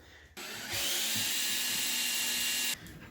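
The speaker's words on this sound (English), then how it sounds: "now we're going to pull the trim, put a pilot hole down to see where we're going to be working" A power drill bores a pilot hole down through a floor beside pulled trim, running in one steady high whine for over two seconds after a brief lower start, then stopping abruptly.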